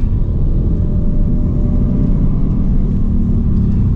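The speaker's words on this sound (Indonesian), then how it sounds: "Kalau tarikan mobil ini lebih galak RPM bawahnya, suara mesinnya lebih halus" Deep, loud engine rumble from a 2022 Mitsubishi Xpander facelift under acceleration, a steady low drone holding throughout with no talking.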